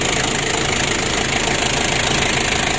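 A motorcycle engine that burns a lot of oil and won't rev high drones steadily at a constant pitch, loud and close, with no talking.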